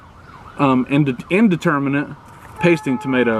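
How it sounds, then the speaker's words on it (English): A distant siren from a suburban highway holds a faint, steady wail beneath a person talking close to the microphone. "And I'm sorry if you hear sirens."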